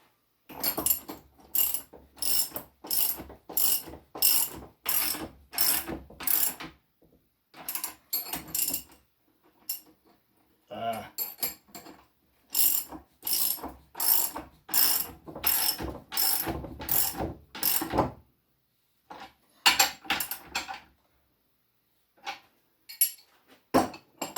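A ratchet wrench clicks rapidly in repeated bursts while tightening nylon-insert nuts on a wooden shaving horse build, each burst a quick train of close, crisp ratcheting clicks with brief pauses between strokes.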